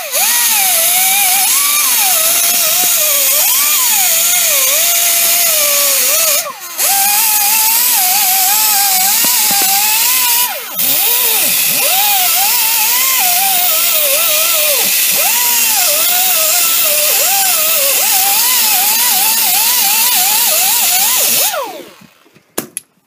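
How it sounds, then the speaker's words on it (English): A die grinder fitted with a small wire brush whines steadily and loudly close by while cleaning a Volkswagen wheel hub, its pitch wavering as it bites, with two brief interruptions before it winds down at the end. "get a die grinder with a lovely little brush on the end"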